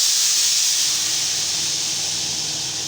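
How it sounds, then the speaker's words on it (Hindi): A loud, continuous hiss of spices sizzling in hot oil as a tempering for dal, steady and close, slowly easing over a few seconds. "दाल में तड़का लग चुका है"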